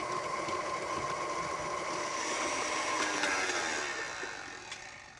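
An electric mixer at medium speed beats eggs into a thick almond butter mixture, producing a steady whirring drone with faint scraping that softens toward the end.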